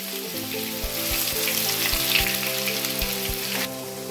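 Three large onions frying in hot oil in a pan with popped mustard seeds, a loud, steady crackling sizzle with a few soft stirring knocks, close up, no talking.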